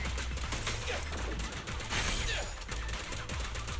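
Rapid, dense gunfire from the video game Zenless Zone Zero rattles on without a break, loud and close, with a steady stream of overlapping shots.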